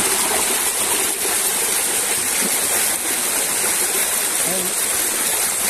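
Cold water rushing through a stream on a farm, a loud, steady broadband gush close at hand, with faint voices mixed into the flow.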